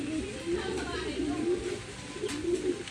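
Racing pigeon just returned from a race, cooing in a low repeated throaty rhythm close by, with faint background noise and a voice.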